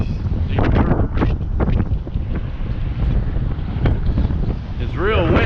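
Strong coastal wind buffets the microphone on a causeway to Santa Rosa Island near Navarre Beach, Florida, a loud continuous roar with gusts, while someone speaks briefly and seabirds call near the end.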